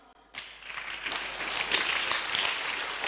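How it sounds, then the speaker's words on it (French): A church congregation breaks into applause during a Sunday sermon, sustained clapping from many hands that starts abruptly and stays loud and steady throughout. "On acclame."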